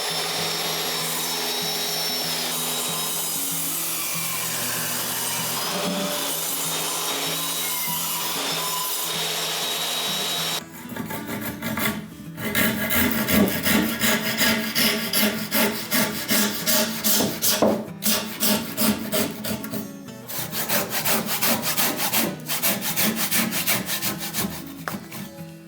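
A power woodworking machine cuts into a timber pillar during a room-extension build, a steady loud grinding whir that drops out, then returns as a harsh, rhythmic sawing rasp with repeated bursts of cutting.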